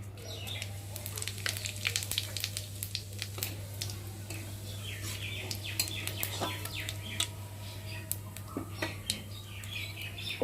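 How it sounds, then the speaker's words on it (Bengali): Whole cumin seeds sizzle in hot oil left from frying fish for a Bengali fish curry, a soft steady crackle with birds chirping in the background and a constant low hum underneath. "জিরেটা একটু ভাজা ভাজা হবে।"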